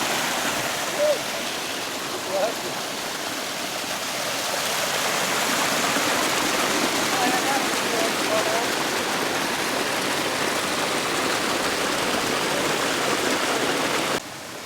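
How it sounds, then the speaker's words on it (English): Steady, full-bodied rush of water from waterfalls near Tecopa, broadband and continuous throughout, with a couple of faint brief bumps early on and the level dropping slightly at the very end. "There's waterfalls everywhere."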